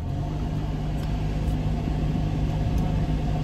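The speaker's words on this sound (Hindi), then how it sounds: "ऐसा इंजन चल रहा है देखो," A car engine runs steadily inside the vehicle, a continuous low rumble and hum that holds at an even level throughout, with no voices.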